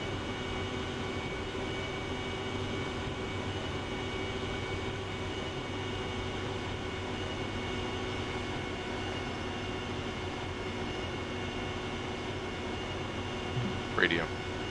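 Steady, loud engine drone from a jet aircraft in a flight simulator, with the throttle eased back slowly during an air-to-air refueling and formation flight; the roar stays fairly even throughout, with a brief small blip near the end.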